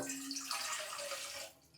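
Water pours briefly and steadily into an idli steamer pot, a close splashing gush that tapers off at the end.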